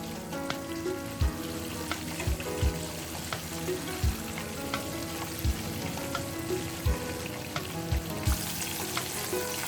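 KFC-style chicken pieces frying in oil over low heat, a steady dense crackle and sizzle close by with occasional louder pops and utensil knocks, no voices.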